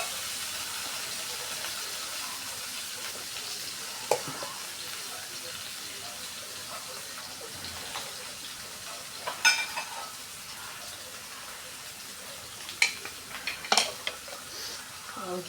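Shallots, garlic, ginger and tomato fry in a pan, giving a soft, steady sizzle with a few sharp clinks of a utensil against the pan.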